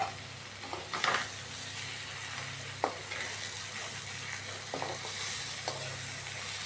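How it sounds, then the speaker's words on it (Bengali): Pabda fish being stirred and coated in spice masala gives a continuous frying sizzle, with a few spoon scrapes and knocks against the pan standing out from the hiss. "এখন পাবদা মাছগুলিকে নাড়িয়ে টাড়িয়ে ওই মশলাগুলি পাবদা মাছের গায়ে মেখে নেব।"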